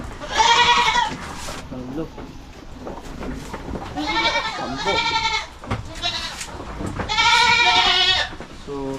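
Goats on a farm bleat loudly and close by in three long, wavering calls spread across the span, with quieter sounds and some voices between them.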